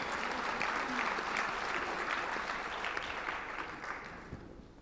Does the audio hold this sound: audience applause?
yes